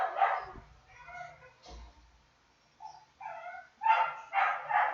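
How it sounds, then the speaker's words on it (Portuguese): A neighbour's dog barks in short bursts with a few yips, some distant and some closer, carrying over quiet gaps in an indoor setting. "Escutando aqui o cachorro do João lá latindo aí."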